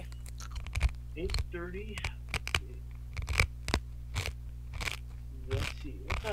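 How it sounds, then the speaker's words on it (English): Someone chews crunchy food close to the microphone during a Resident Evil 6 let's play, with repeated crisp bites and crunches scattered across the clip, broken up by brief speech and a steady low hum underneath. "This whole video is just going to be them listening to me chewing unless I mute it."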